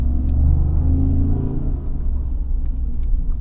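A 2021 Ford F-150 pickup truck engine rumbles loudly up close during hard braking stops, with low road noise rolling steadily throughout.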